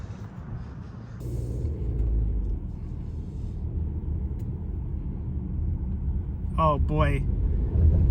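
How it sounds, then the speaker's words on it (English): A big dump truck rumbles past near an old steel deck bridge on Route 79, a loud low engine drone building steadily, with a short spoken exclamation near the start and a couple of sharp high squeals toward the end. "Big dump truck coming down."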